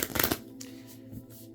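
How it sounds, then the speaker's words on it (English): Tarot cards shuffled by hand, a dense riffling burst in the first third of a second followed by softer sliding and tapping of the deck, close and fairly quiet with no talking. "While I'm shuffling"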